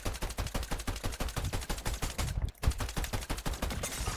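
Rapid, steady assault rifle fire in a Fortnite match, loud and continuous bursts of evenly spaced shots with a brief pause near the middle.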